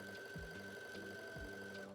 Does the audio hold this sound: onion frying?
no